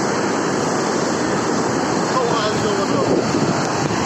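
Roaring, continuous rush of mudflow floodwater in Tamdy district, Navoi region, Uzbekistan, loud and close with a steady broadband surge and some wind buffeting the microphone.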